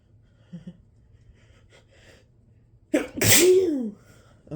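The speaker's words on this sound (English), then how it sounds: "I'm also doing spray sneezes." After quiet breathing and small sniffs, one loud, wet spray sneeze bursts out close to the microphone, induced by turmeric on a cotton swab, followed by a short breath.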